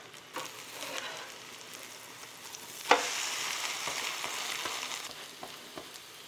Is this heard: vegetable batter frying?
yes